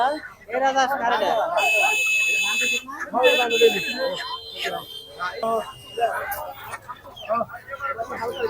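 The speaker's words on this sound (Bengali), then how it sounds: "এখানে সুন্দর সুন্দর সোনালী মুরগি বিক্রি হইতেছে" Sonali chickens cluck intermittently amid the bustle of Goyalbari village livestock market on a hot day, partly masked by people talking nearby and a steady high buzzing tone.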